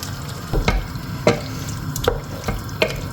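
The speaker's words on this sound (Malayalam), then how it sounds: "ചിക്കൻ ഇതിലേക്ക് ഇട്ട് കൊടുക്കാം" Chicken goes into a boiling pot for biryani, with soft wet plops and light stirring knocks at intervals over a steady bubbling simmer, close and moderately loud, with no talking.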